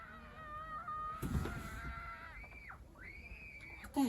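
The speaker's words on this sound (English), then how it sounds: "A child was screaming." A child screams outside an RV at a quiet campground in California at night, shrill wavering cries that are distant and faint, with a brief louder burst midway.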